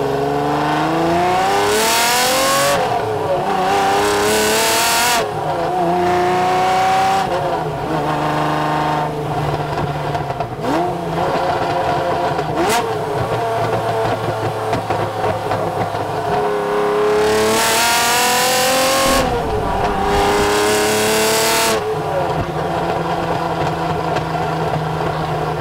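A Lamborghini Diablo SV with a 530-horsepower engine accelerates hard on the road, loud and close, its revs climbing through gears with brief shift dips, heard alone without talk.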